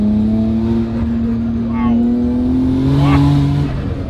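A Nissan Skyline GT-R R34 engine idles with a steady, strong rumble and then revs up in a couple of short rising blips, close and loud, with voices talking over it.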